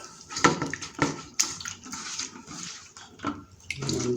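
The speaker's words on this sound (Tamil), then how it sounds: "கொஞ்சமாக தண்ணி விட்டுக்கலாம்." Water is poured in small splashes into a bowl of cauliflower batter for Gobi Manchurian, a few short trickling bursts close by with brief pauses between them.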